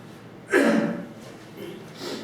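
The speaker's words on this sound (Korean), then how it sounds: "제가 갑자기 기침이 나와서" A preacher in a church service gives one sharp, close cough, followed by faint breathing.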